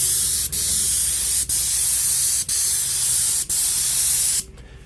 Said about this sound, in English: So I'll spray a little bit with the other rig so I can show you.